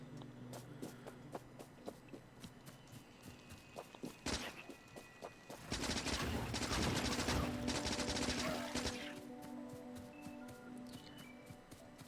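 Gun turrets fire in the Factorio video game, with scattered faint shots and then a dense rattling burst of automatic fire lasting several seconds, set among quieter ticking game sounds.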